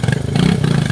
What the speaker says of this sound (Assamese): रॉयल एनफील्ड का दमदार बाइक है देखो